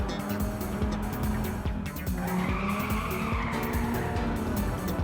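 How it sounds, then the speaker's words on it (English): Tires squeal through a sustained drift in the PlayStation racing game Ridge Racer Type 4, a rising and falling screech layered over a loud, steady engine roar that continues without a break. "When you hear the screeching of the tires, that's me drifting."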